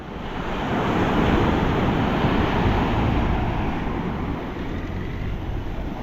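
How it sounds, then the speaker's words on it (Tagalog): Strong sea waves crash on the shore at San Juan, La Union, a loud, continuous surging roar that swells and recedes slightly, with some wind buffeting the microphone and no speech. "Malakas pa rin yung alon."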